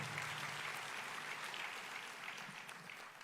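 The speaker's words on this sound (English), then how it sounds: "And that is a reason to applaud." Sustained applause from an audience at a county address, a dense, even wash of many hands clapping at once, moderately distant and without talk, continuing at a steady level throughout.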